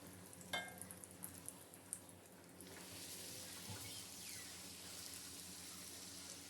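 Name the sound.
suji puri frying in oil on high flame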